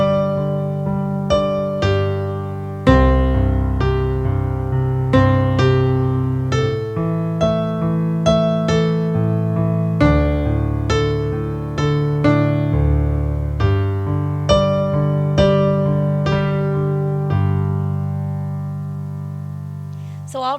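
Piano played with only the thumb and little finger of the right hand in a varied rhythm, notes sometimes held for extra beats or struck together, steady clear tones over about twenty seconds with no talking.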